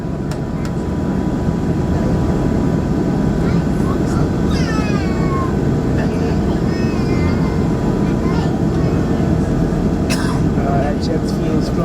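An InterCaribbean Airways Embraer 120 Brasilia turboprop takes off from Grand Turk. Its engines give a loud, continuous low drone throughout, with voices heard over it.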